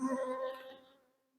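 Honeybees buzz at an opened hive during an inspection, a close harmonic drone that slowly fades away over little more than a second, with no voices.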